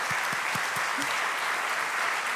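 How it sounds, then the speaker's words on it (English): Audience applause at a Roma cultural heritage prize ceremony, dense steady clapping from a crowd throughout, with a brief voice underneath. "I would like to have an applause for Robert"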